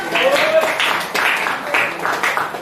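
Classroom applause from students after their class mastery result is announced, with rhythmic group clapping in repeated bursts and voices talking over it.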